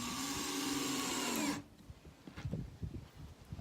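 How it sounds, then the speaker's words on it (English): A power drill drives a number 6 by 1 inch screw into a wooden school-project seat with a single loud, steady whine that stops abruptly, followed by quieter clicks and handling clatter. "And we'll put some screws in it."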